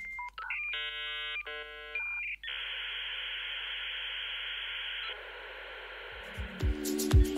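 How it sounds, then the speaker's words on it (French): A 56K dial-up modem connecting to the early home internet: touch-tone dialing beeps, a shrill sustained handshake tone, then hissing, scratchy static bursts, all fairly clear and without talk. "le timbre si particulier du modem 56K qui initiait les connexions au tout début de l'Internet domestique"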